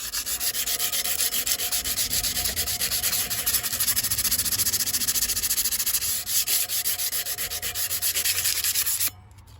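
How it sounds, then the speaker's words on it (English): Steady, continuous rubbing of sandpaper on a brake rotor from a 1983 Honda Shadow VT750C motorcycle, loud and close for about nine seconds before stopping abruptly. "I'm gonna try and sand that smooth, at least a little better."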